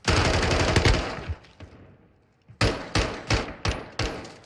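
Gunfire in Call of Duty Modern Warfare 2: a loud rapid burst of automatic shots, a few scattered single shots, a short pause, then five or six heavy, evenly spaced shots ringing out close by.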